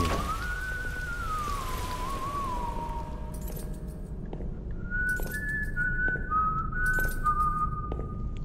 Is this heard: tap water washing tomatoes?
no